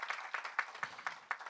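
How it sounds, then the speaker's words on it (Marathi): Audience applause at an award ceremony, a short run of scattered claps at moderate level, fairly faint and irregular in rhythm. "मला सगळ्यात चांगला साऊंड वाटतो तो टाळ्यांचा वाटतो"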